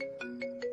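A phone ringtone chirps in a short repeating electronic pattern of rising tones, three quick bursts within under a second, moderately loud and unanswered, with no talk over it.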